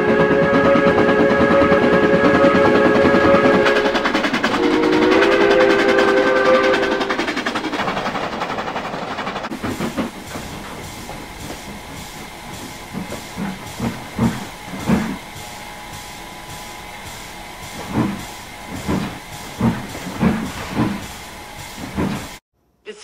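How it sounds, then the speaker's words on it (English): Clinchfield 311 steam train on the Clinchfield Highland Valley Railroad in the mountains: a long, loud whistle blast with steady hiss for about ten seconds, then rhythmic chuffing and intermittent steam bursts echoing nearby. "This is the Clinchfield Highland Valley Railroad."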